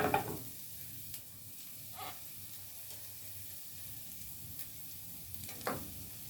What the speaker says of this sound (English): Now what we're going to do is we're going to add our rice.